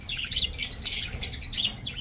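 Budgies chirp and squawk in a nest with eggs and chicks, a busy cluster of close, high tweets with no talk.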